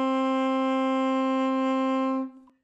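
An alto saxophone holds a single sustained A, a steady, clear tone lasting about two seconds before it cuts off, played alone and close.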